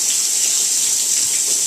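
An Oxygenics shower head on its light massage setting sprays water in a steady, hissing rush, loud and close, with no pauses or voices.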